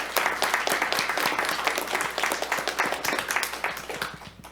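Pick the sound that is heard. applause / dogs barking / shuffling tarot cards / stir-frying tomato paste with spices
applause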